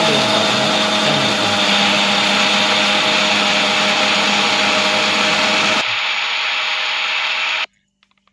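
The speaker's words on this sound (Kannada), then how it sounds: "ಇದನ್ನು ಮಿಕ್ಸರ್ನಾಗ ಹಾಕಿ ಸಣ್ಣ ಮಾಡಿದ್ರಿ" A mixer grinder powders fried almonds with a loud, continuous high-pitched whir that drops in pitch near the end, runs on briefly, then cuts off abruptly, followed by a few faint clicks.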